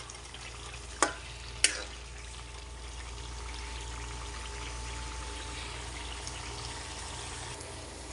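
Spices frying and being stirred in a pan of oil, a soft, steady sizzle with two brief scraping clinks of the spoon early on, quiet and close.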